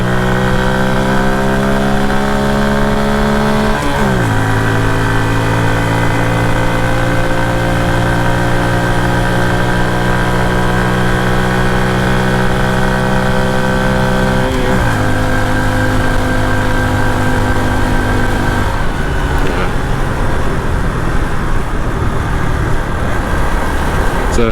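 Honda Super Cub motorcycle engine pulling uphill on the road, a loud, close, buzzing drone that climbs in pitch, then drops sharply at each gear change, with a final downshift near the end, plus wind noise.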